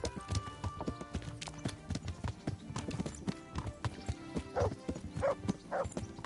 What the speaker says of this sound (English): what is he doing with his horse?